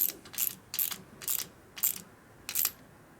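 A torque wrench ratchets on the motor case bolts of a 1983 FLTC 80ci Shovelhead engine during a rebuild, producing six crisp, evenly spaced clicking bursts close up with quiet gaps between them.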